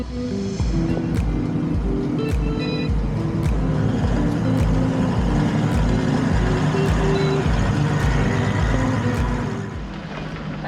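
A 4WD vehicle drives over rough bush tracks in the Kennedy Range, a steady engine drone with rhythmic bumping and rattling, close and continuous without talk.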